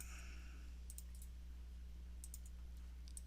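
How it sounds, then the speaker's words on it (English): Computer mouse clicking: a few faint, sharp double clicks spaced about a second apart over a low steady background hum. "double click on that part"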